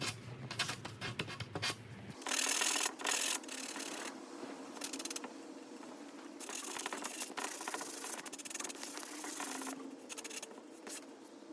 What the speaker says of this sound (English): Then I hand sanded it just until all of it was blended in together.